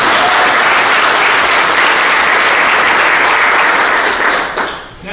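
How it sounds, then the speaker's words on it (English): Audience at a Monticello Community Band concert breaks into loud, sustained applause, a dense wash of many hands clapping together that holds steady before tapering off at the end. "Let's give these new folks a round of applause."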